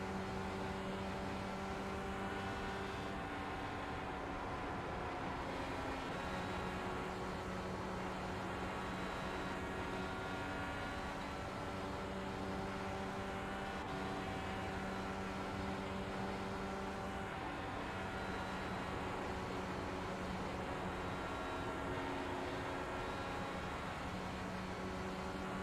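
An Indycar engine screams at full throttle in iRacing at Las Vegas, a steady high-revving drone that holds with little change and no talking.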